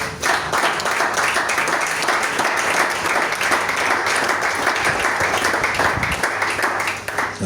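A church congregation applauds in sustained, dense clapping that stays steady and loud from start to finish, with a few voices faintly mixed in underneath.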